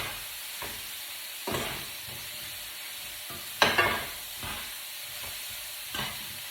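Spaghetti tossed in a pan of salmon and prawns in cream sauce gives a steady sizzle broken by several scraping stirs, with one louder clatter midway, close and with no voices.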